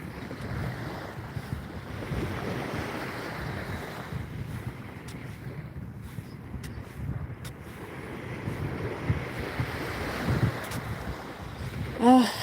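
Calm ocean waves wash in steadily at a public beach, with broad surf hiss and rumbling wind buffeting the microphone throughout; no one speaks.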